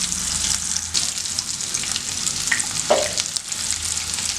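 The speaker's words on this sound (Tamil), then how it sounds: "இப்போ எல்லாமே எடுத்து ஒன்றா பொரித்து எடுத்துக்கலாம்" Baby potatoes coated in masala fry in hot oil, giving a steady, loud, continuous sizzle with occasional crackles and stirring scrapes close by.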